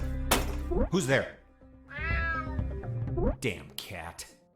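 A cat meows twice in the UnMetal video game, short rising-falling cries alone at first, then a character's voice speaks over the later sounds.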